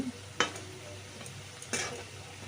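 Small lentil fritters, dal pakora made from soaked lentils, frying in hot oil and being turned: a steady low sizzle with two sharper scraping or splashing bursts as they flip, no voices.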